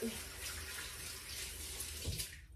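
Steady broadband rush of water pouring from a tap, continuous and fairly close, with a brief clatter near the end.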